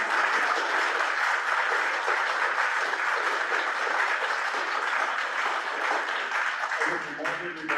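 Sustained applause from an audience at a public meeting about a rail line, a dense steady clapping that fills the room throughout before cutting off near the end.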